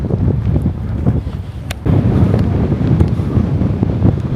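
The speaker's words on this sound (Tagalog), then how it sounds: "ang lakas ng hangin, yung natural wind niya at sounds ng wind talagang nakaka-relax" Strong gusts of wind in Sherwood Forest, Nottingham, England, buffet the microphone in a steady, rumbling roar, rising louder midway and staying close and continuous.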